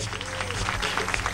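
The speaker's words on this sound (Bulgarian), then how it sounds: "Аплодисменти за всички, които са на сцената." Loud, continuous applause from a crowd at an outdoor Balkan folk festival stage, greeting the performers, with a dense wash of clapping and some low rumble underneath.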